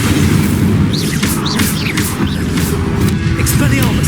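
A fire spell in Hogwarts Legacy roars and crackles in a loud, sustained burst, with booming impacts and whooshing flares packed together throughout, alongside dense in-game combat noise.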